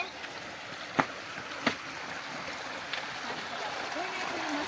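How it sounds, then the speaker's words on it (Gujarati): An electric pump motor draws water up from a well in a steady broadband rush of flowing water, with a few sharp clicks and faint, muffled voices underneath. "અને આપણે મોટર ચાલુ થઈ ગઈ છે"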